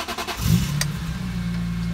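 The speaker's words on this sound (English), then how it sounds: "Okay, let's give it a start up. So to start, you have to press the brake pedal." A cold car engine cranks briefly and catches, settling into a steady, close idle rumble.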